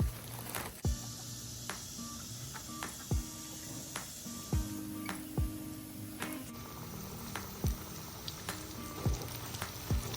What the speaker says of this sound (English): Now what we're gonna do is put all of our gar in here because I know that oil is ready.